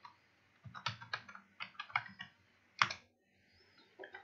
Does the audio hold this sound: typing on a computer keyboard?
yes